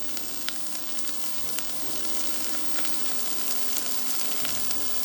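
Garlic sizzles steadily in a hot frying pan, a bright continuous crackle with a brief stir partway through, close and alone with no talking.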